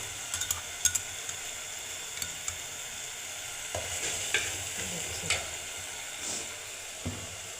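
Spice paste of onion, ginger-garlic and green chili paste with turmeric, chili and salt, stirred and fried in a pan: a continuous sizzle under scraping stirring strokes, with occasional sharper ticks and spatters close by.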